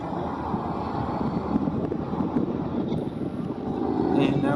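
A small motorboat's engine hums under steady wind noise on the water, then swells louder near the end as the throttle opens up.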